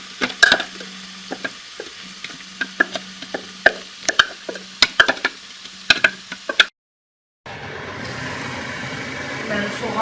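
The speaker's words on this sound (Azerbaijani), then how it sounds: "Əvvəlcə soğanı bir balaca qızartmaq lazımdır." Onions frying in melted fat in a pan, with a steady hiss punctuated by sharp clacks of stirring and scraping, briefly cut off and then returning as a denser, louder sizzle.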